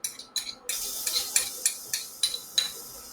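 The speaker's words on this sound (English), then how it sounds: "I'm just gonna saute, gonna stir fry my garlic until it turns slightly golden brown and slightly fragrant" One clove of garlic stir-frying in a heated pan, with a soft sizzle under repeated light scraping and clinking strokes of a utensil against the pan in a steady rhythm.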